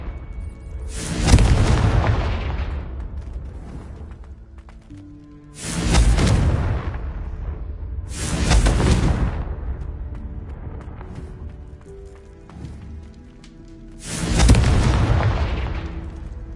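Spell explosions from the Confringo curse in the video game Hogwarts Legacy: four loud, booming fiery blasts spaced a few seconds apart, each a sharp burst fading into a rumbling tail over a low game soundtrack.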